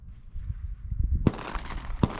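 A Sig Sauer P320 X-Ten pistol firing at a range, two sharp loud shots about a second apart, with low rumbling handling noise before them.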